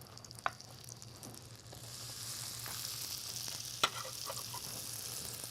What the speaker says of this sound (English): Okay, the butter's melting. We're gonna throw this in the pan.